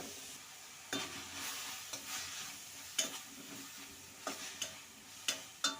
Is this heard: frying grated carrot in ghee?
yes